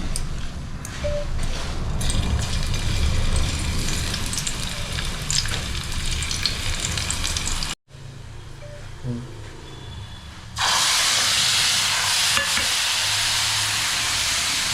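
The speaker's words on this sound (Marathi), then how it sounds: "कालवणाला चांगला उकळ आला आहे." A pan of pomfret curry boils with a steady, close bubbling hiss. It cuts out briefly just before the midpoint, returns softer, then swells to a brighter, louder seething for the last few seconds.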